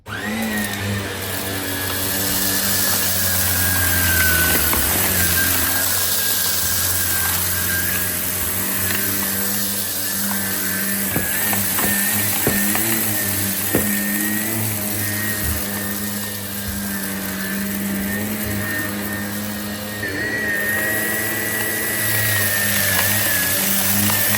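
A Shark Navigator NV105 upright vacuum cleaner runs loud and close with a steady motor whine, its pitch wavering slightly and brief scraping bumps sounding as it pushes along floor edges.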